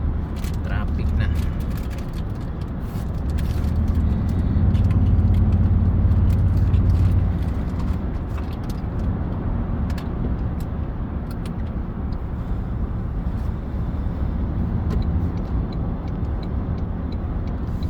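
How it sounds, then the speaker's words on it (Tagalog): Steady rumble of busy highway traffic heard from close by during a morning commute, a continuous low engine drone with passing vehicles and occasional brake hiss, and a voice talking over it. "Traffic na."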